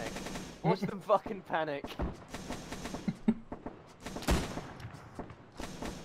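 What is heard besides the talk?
burst-fire machine gun shooting in a video game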